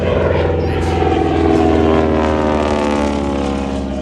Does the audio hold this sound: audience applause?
no